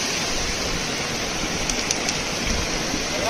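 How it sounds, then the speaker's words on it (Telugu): Waterfall at Kilasam, where rushing water pours in a constant, close, loud broadband roar that holds steady throughout with no talking. "వాగైతే వస్తుంది వాటర్ ఫాల్"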